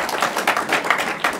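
Audience applause from a French talk-show crowd, a steady patter of many hands clapping at moderate loudness, continuous for the whole moment with no voices on top.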